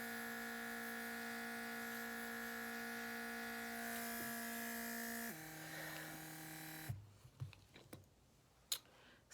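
A Temptu Air airbrush spraying eyebrow makeup gives a steady electric whine with a pitch drop partway through, then stops, leaving a few soft clicks and handling taps close by.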